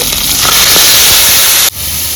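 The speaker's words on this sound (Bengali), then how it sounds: "জিরা তেজপাতা লঙ্কা তেল দিয়ে দিচ্ছি" Cumin, bay leaf and chili hitting hot oil in a pan, a loud steady sizzling hiss that drops sharply near the end and continues more quietly.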